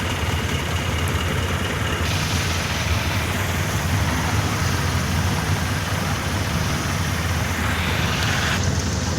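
Idling car engines in stalled traffic near SM Bacoor, a steady low rumble with roadway hum from nearby vehicles, constant and close throughout, no talking.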